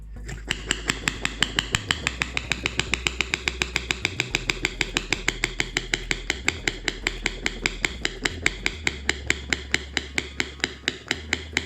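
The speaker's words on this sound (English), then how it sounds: "Put the cold milk in a French press and make foam." Cold milk being frothed in a French press, the plunger pumped rapidly for a cold cappuccino, giving a steady train of sharp, regular rhythmic clicks and thumps with sloshing underneath, close and alone with no talking.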